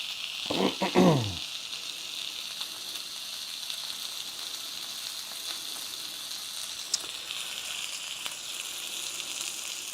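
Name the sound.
lamb sizzling in a pan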